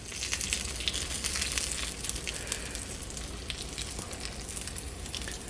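Pineapple fritter frying in old oil on a Dash mini griddle, a steady close crackling sizzle with scattered sharp pops throughout and no voices.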